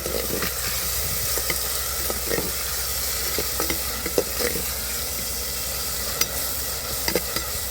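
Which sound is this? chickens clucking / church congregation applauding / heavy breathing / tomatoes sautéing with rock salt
tomatoes sautéing with rock salt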